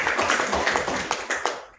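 Clapping from a small audience at a government focus group discussion, a brief scatter of uneven hand claps with distinct individual slaps that trails off quickly at the end.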